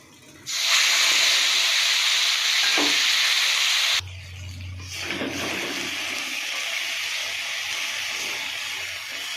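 Ground spice paste goes into hot oil left from frying fish with black cumin, setting off a sudden loud burst of hissing. Partway through it drops to a softer, steady sizzle.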